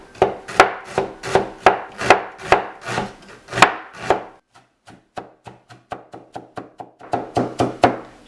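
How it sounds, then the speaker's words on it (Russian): Knife finely chopping a hefty onion on a cutting board, a steady run of sharp, close chops in quick rhythm, pausing briefly midway and then resuming, with no talking. "Лук нам нужно нарезать мелко."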